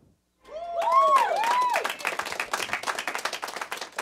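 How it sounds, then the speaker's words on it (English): Audience clapping and cheering for a band at a live radio studio session. It bursts in abruptly, loud and dense, with a few whistles near the start, then settles into continuous scattered clapping. "No, keep clapping."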